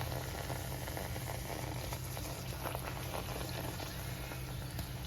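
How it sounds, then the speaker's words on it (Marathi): Pumpkin puris deep-frying in hot oil, a steady close bubbling sizzle and crackle that holds evenly throughout without pause, alone with no talking over it. "आणि चांगल्या खरपूस तळून घ्यायच्या मस्त."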